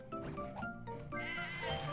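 Cartoon sheep in the puzzle game Divide By Sheep bleat in quick succession, several close, nasal baas overlapping one another, fairly soft and with no one talking over them.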